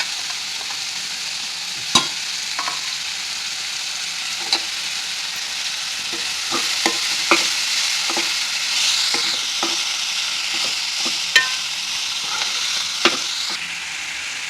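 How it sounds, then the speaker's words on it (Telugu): Washed, finely chopped spinach cooks in a pan for a spinach pulusu curry, giving a soft, steady sizzle throughout, punctuated by scattered taps and scrapes of a stirring utensil. "సన్నగా తరిగి పెట్టుకొని కడుక్కొని కడుక్కున్న పాలకూర వేసుకొని మగ్గనివ్వాలి"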